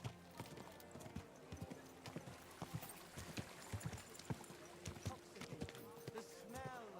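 A horse's hooves clip-clop at a walking pace in medieval Kingdom Come Deliverance II, close and rhythmic, with an occasional snort and a voice speaking briefly over the steps.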